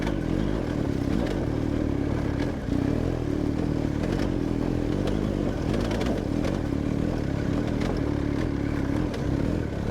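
BMW GS adventure motorcycle climbing a steep off-road hill, its engine droning steadily and continuously with clattering and scraping from the rough terrain throughout.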